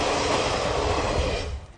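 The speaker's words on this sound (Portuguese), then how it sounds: "Os passageiros terão que se despedir do velho trem a diesel." An old diesel passenger train near Tokyo rumbles past on its final run, loud and steady with a broad, rushing roar, then begins to fade away at the end.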